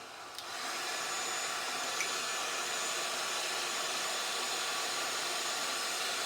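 A hair dryer blows steadily over a freshly salted watercolor painting of a tree, a loud continuous airy whir that switches on after a brief moment and holds unchanged, with no talking.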